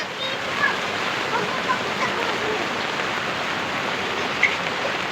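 Floodwater pouring into a house during torrential rain, a dense, steady rushing and splashing wash that stays close and loud throughout, with no clear speech over it.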